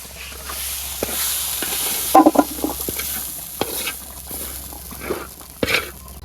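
Potato chops fry in a pan over a village clay stove, with a steady soft sizzle under occasional scraping and stirring clinks from a utensil, close by and moderately loud.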